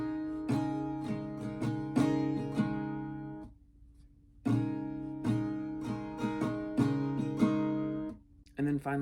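A bridge strumming pattern for a song rings out on acoustic guitar in two bursts of rapid chord strokes, split by a brief ringing pause. It sounds close and moderately loud, with no talking.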